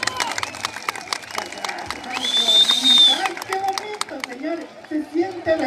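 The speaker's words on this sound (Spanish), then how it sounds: "A ver, si le está gustando mi trabajo, demuéstremelo con un aplauso." Rodeo crowd at a jaripeo fiesta clapping and cheering, a broad wash of applause with whistles and shouts under a loud announcer's voice, swelling mid-way then continuing as scattered claps.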